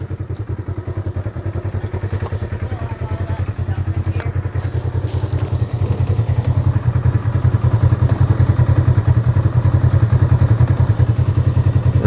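A Polaris RZR XP side-by-side sits running on a flex-test ramp, its engine a steady, loud, close throbbing drone that swells slightly partway through, with people talking over it.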